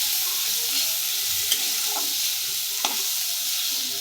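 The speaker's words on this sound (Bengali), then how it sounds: "লঙ্কাটাকে ভালো করে তেলে ভেজে নেব।" Dried red chilies fry in hot oil alongside browned onion and garlic, giving a steady close sizzle with a couple of sharp spatula scrapes against the pan.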